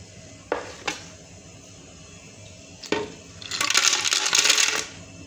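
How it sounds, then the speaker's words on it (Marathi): Ice and watermelon pieces drop into a steel mixer jar for juice: two sharp clinks, then another, followed by a louder rattling clatter of pieces tumbling in, close up and without speech. "मी बर्फ टाकून घेतलेला आहे ह्या फोडी पण टाकून घेऊ"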